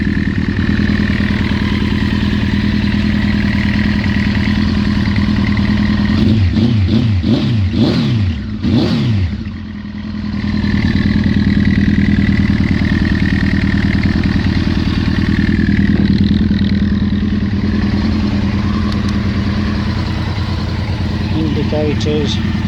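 A Honda CBR900RR FireBlade (893cc, SC28) motorcycle engine idling close by with a steady, throbbing low putter, briefly blipped and revving in the middle before settling back to a constant idle.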